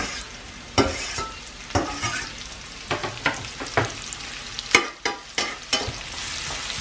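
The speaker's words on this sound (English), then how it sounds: "the oil is nice and hot now, so I'm going to add my onions to the oil" Sliced onions crackle and sizzle in hot oil in a pan, with frequent stirring scrapes and clacks punctuating the steady frying noise, close and loud with no talking.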